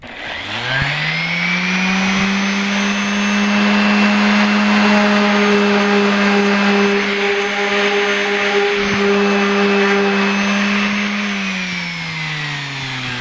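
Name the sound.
electric sander sanding table edges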